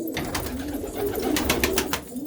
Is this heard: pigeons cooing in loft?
yes